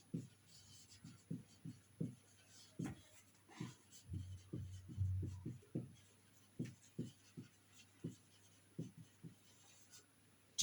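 Chalk or marker tapping and scratching on a board during a social studies lesson, heard as a series of short, close strokes in irregular rhythm against a steady low hum.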